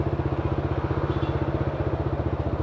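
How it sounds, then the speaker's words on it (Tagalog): A Honda ADV160 scooter fitted with an adjustable-silencer JVT Power Pipe exhaust idles close by, a steady, loud, rapid low-pitched putter with an even throbbing pulse and no voices. "idle sound ng ating JVT version 3 yata to, yung may adjuster ng kanyang silencer"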